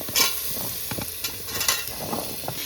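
Vegetable stems and potato are stirred with tomato and spices in a pressure cooker, giving repeated scraping stirs over a steady close sizzle with no talking.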